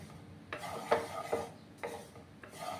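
Sesame seeds being dry-fried in a pan, heard as four soft scraping stirs of a spatula at a slow, steady pace, close but faint, with no talking.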